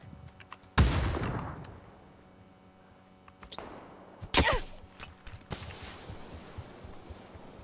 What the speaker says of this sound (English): Well, that was a grenade.